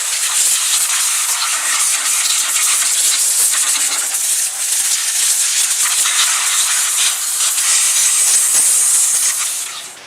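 A loud, steady hiss of cleaner being sprayed into the air intake of a 2011 Ford Edge, running almost unbroken for about ten seconds before tapering off at the end.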